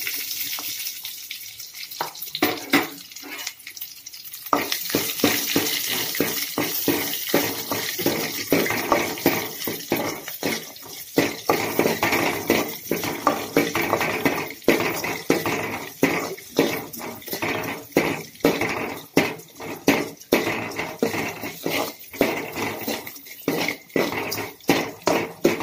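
Sliced onions with curry leaves sizzle in hot oil in a home kitchen, giving a steady crackling fry, broken by repeated scraping and clinking as a spoon stirs them in the pan.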